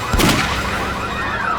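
A single loud gunshot cracks at the start of a scene in a Hindi crime drama, then rings out in a short fading echo with no other sound.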